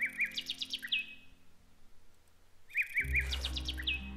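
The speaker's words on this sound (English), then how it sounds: "A clockwork bird perched on a moon dial." Mechanical clockwork bird on a moon dial in the Margrave video game chirps in two bright bursts of quick repeated tweets, separated by a pause, with a low background hum joining in the second burst.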